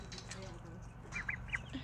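Ducks give a few short, soft quacks in a backyard poultry area, faint under steady low background noise.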